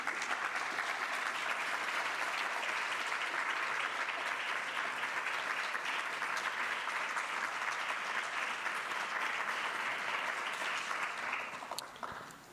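Sustained audience applause at a cybersecurity and cyberintelligence graduation ceremony, a steady dense clapping that fills the hall for about eleven seconds before tapering off at the end, with no talk over it.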